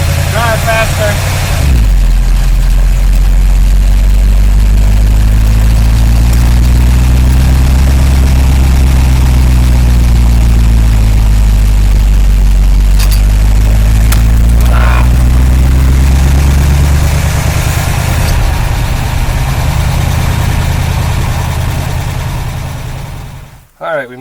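A 1953 Oldsmobile Rocket Super 88 barn-find car engine runs loud and close while driving, with a deep, steady drone whose pitch swells and dips as it moves along, then cuts off abruptly at the end.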